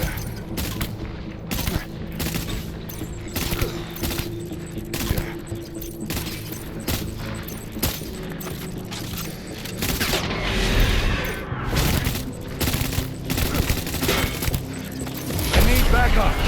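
Enemy gunfire rattles in a video game, bursts of shots and booms going on and on amid game noise, with a voice talking over parts of it and heavier thumps toward the end.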